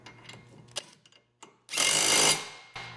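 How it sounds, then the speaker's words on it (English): A power drill runs in one sustained loud burst of about a second, fastening a sleeve during reassembly of an elliptical exercise machine, preceded and followed by quieter clicks and handling of tools. "Let's secure it using our wrench and drill"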